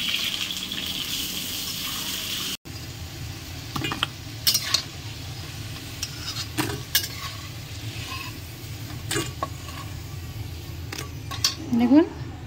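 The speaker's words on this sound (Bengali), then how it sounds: "এখন আলুটা আমি ভেজে নেবো" Potatoes frying in a pan for a potato and boal fish curry, a steady sizzle under occasional stirring scrapes and utensil clinks, with a voice talking over it.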